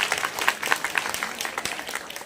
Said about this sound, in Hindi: एक बार अपने लिए आप लोग तालियां बजा दीजिए